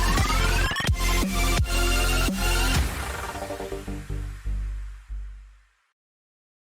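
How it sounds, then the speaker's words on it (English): Electronic phone ringtone from the video game Cruelty Squad, a loud, bright trilling ring that repeats in bursts, then drops to a few fading tones and silence. "we receive a most unusual phone call"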